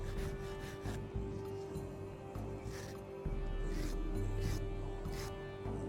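Close, quiet rough rubbing and scraping as soil is rubbed off a dug-up metal button, with gritty strokes in short bursts and then a steadier low friction sound.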